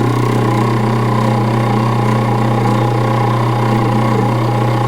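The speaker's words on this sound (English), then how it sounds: "You just align the mica with the cutting wheel, hold the armature from turning by hand, and just advance your cutting wheel on down." A cutting wheel undercuts the mica between the commutator segments of an antique tractor starter-generator armature. It gives a steady, loud motorized hum and whine that runs unbroken throughout, with no speech.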